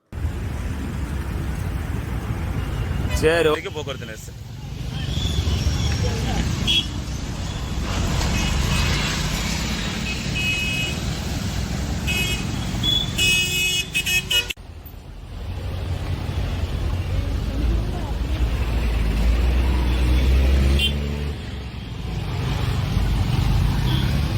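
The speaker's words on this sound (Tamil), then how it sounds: "திருச்சி ரோட்டில் போக்குவரத்து பல மடங்கு அதிகரித்துள்ளது" Heavy traffic jam on Trichy road, a dense continuous rumble of engines close by, with a couple of brief horn-like tones rising over the steady din.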